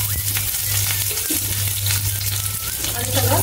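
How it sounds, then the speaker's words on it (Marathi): Ginger and garlic roast in a spoonful of oil, making a loud, close, continuous sizzle and crackle with stirring sounds throughout and no speech. "आलं आणि लसूण पण आपण भाजून घेऊया"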